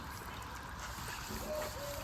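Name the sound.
water trickling as grandfather waters vegetable garden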